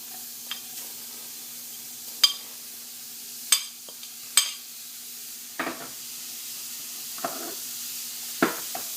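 Coriander stems and onion hitting browned cumin seeds in a pan for Indian bhindi masala, oil-free: a soft, steady sizzle with sharp clinks and scrapes of stirring scattered throughout, no voices.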